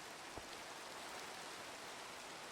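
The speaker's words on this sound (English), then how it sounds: "Lots of rain, actually." Rain mixed with snow falls steadily outdoors in Finland, a soft, even hiss with one faint tap early on and no voices.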